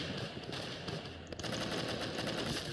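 Rapid automatic gunfire in the Roblox game Arsenal, a dense continuous burst of shots that keeps going almost the whole time with a brief break, mid-distance, with no voices.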